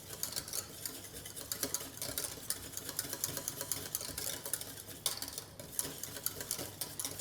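Pear tart filling is stirred in a pan with a steady scraping and bubbling, and a utensil ticks and clicks against the metal in a busy, continuous rhythm close up.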